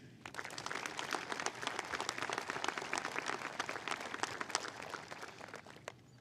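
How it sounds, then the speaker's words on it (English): A crowd at the FCHS Class of 2024 graduation applauds veterans, with a steady wash of many hands clapping that sounds somewhat distant and soft, sustained for about six seconds. "give them a round of applause for their dedication to our country"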